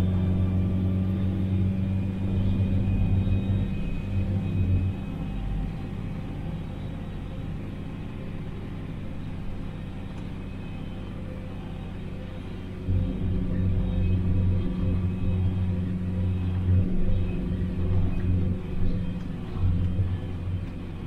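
Inside the cab of a John Deere 8530 tractor, the engine hums as a steady low rumble for the whole stretch, swelling louder near the start and again in the second half.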